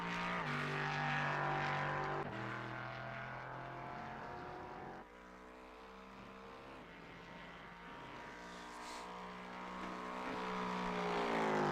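A race car engine in the iRacing sim racing game holds a close, steady tonal note that drops sharply at two gear shifts and then climbs as the revs build again.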